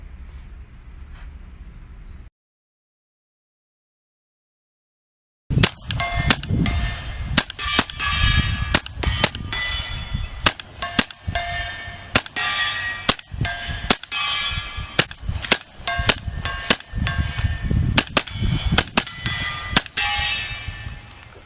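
Rifle fire at steel targets 330 yards downrange outdoors: after a brief silence, a rapid string of sharp shots comes one after another, each followed by a ringing metallic clang, continuing steadily for about sixteen seconds.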